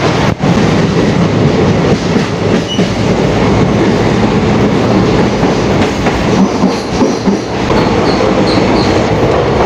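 A train running through a long tunnel near Lumding, with a loud, continuous rumble and rattle of wagons, steady clickety-clack and faint wheel squeal throughout.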